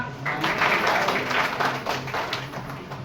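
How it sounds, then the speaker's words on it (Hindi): A group breaks into applause, a moderately loud patter of clapping that swells early and then tapers off, with light background murmur beneath it. "बहुत बढ़िया, तालियां।"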